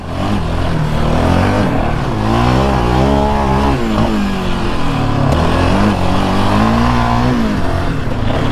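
A 2022 Yamaha Raptor sport ATV engine running close up while riding over soft, fine sand, its revs rising and falling in loud, continuous sweeps.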